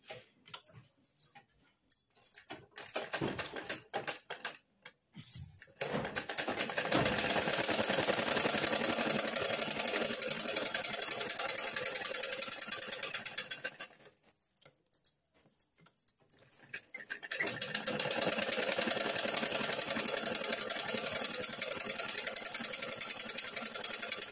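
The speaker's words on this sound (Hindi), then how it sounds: "अब फिर से जो है सिलाई करेंगे और देखेंगे कि धागा कट रहा है कि नहीं कट रहा है" Household sewing machine stitching fabric after a thread-tension adjustment, a rapid mechanical whirring run with ticking needle strokes, starting and stopping in close, moderately loud bursts.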